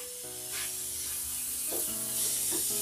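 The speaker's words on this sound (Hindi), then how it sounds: "इसके दूसरे साइड में भी थोड़ा घी लगा देंगे।" Ghee sizzles on makki roti, a cornmeal flatbread, cooking on a hot griddle, a steady close hiss that swells a little louder toward the end, with no voices.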